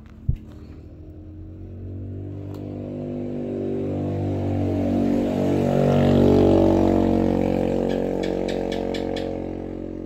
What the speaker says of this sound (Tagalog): parang nabingi na po ako mga palangga sa boses ng mga motorsiklo na dumaan